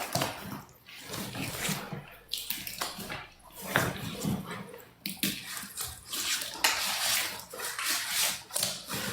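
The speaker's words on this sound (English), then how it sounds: "I gotta smooth the paste out properly" Wet laundry powder paste being smoothed and worked by hand in a large suds overload mix with dish soap, a continuous close-up squishing and sloshing that runs steadily throughout with small swells, and no talking.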